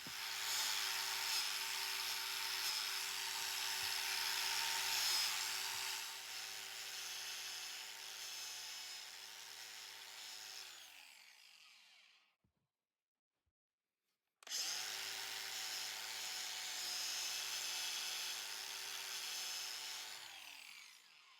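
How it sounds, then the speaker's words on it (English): An angle grinder fitted with a 60 grit disc smooths a foam head rest for a Mercedes R107 with a steady high whine. It runs for about twelve seconds, cuts to silence, then starts again. "This angle grinder with a 60 grit disc gives you a super smooth finish"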